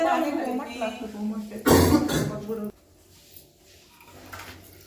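A person coughs once, a short loud burst heard close by after a stretch of speech, followed by quieter room sound.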